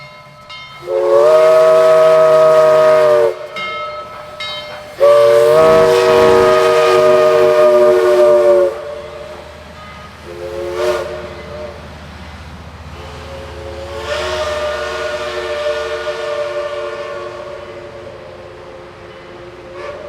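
A loud whistle from Southern Railway steam locomotive 4501 sounds in two long blasts, then shorter toots and a final drawn-out blast over the hiss and rumble of the engine accelerating past.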